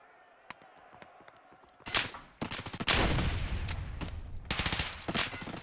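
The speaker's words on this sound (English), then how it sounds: "Oh my god, what a disgusting hipfire." Competitive video game gunfire comes in bursts of rapid shots, including a hipfire spray, loud and close after a quiet stretch with faint distant shots.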